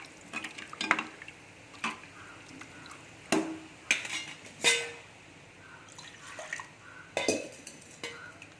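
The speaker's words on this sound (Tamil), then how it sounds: "தேவைக்கு கொஞ்சம் தண்ணி விட்டுக்கலாம்" Water is poured into a pan of Tamil-style fish curry (meen kulambu) on the stove, with intermittent sharp clinks of pots and utensils and some liquid splashing.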